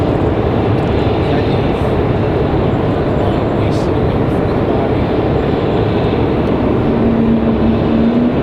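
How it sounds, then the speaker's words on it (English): A Southwest Airlines airliner taxiing toward the runway at Raleigh-Durham International Airport, a loud steady jet engine roar with continuous low rumble, heard from nearby with no break. "Another Southwest headed out to the end of the runway."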